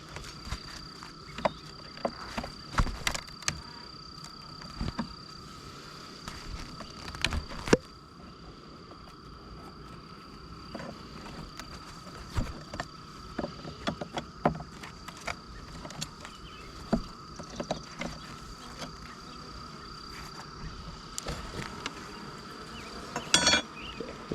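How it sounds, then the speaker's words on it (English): Honeybees drone around an open hive during a spring honey harvest, a steady close buzzing with individual bees passing near, accompanied by scattered handling knocks and clicks. "So what we'll do is brush off the bees."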